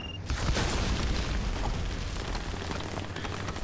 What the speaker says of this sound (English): he threw a grenade up here